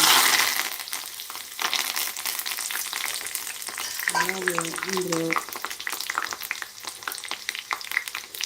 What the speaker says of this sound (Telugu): ఆయిల్ హీట్ అయిపోయింది పప్పు తాలింపుకి ఇవన్నీ అయితే వేస్తున్నాను